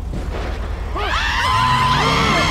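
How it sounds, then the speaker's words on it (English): Several people scream in GTA Online amid flying motorcycles and chaos, their shrill, wavering cries breaking out suddenly about a second in over a low game rumble and continuing loud to the end. "Why are people screaming?"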